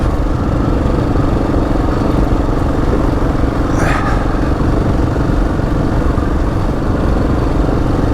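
A Husqvarna 701 motorcycle being ridden off-road makes a loud, close, rough engine drone that stays steady and unbroken throughout.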